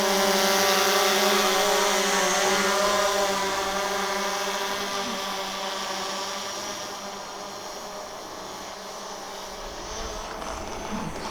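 Drone flying over the new lava-formed coastline at Kapoho during the 2018 Kilauea eruption in Puna, Hawaii, a steady high-pitched multi-tone whine that is loud at first, then slowly fades as it moves away, with no talk.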